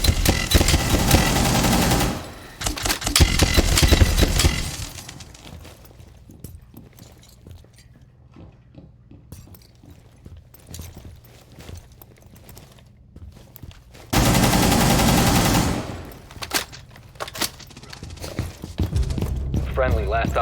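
Suppressed assault rifle fire from Aruni's AR in a video game: loud, dense bursts of rapid shots open the clip, fade into quieter shuffling, then a second sustained volley erupts near the end.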